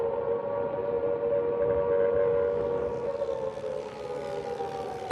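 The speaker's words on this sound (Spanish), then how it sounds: "Entonces se oye el ruido de las sirenas." Air raid sirens wail steadily over wartime London during the nighttime siege, a sustained droning tone heard from a distance with no voices.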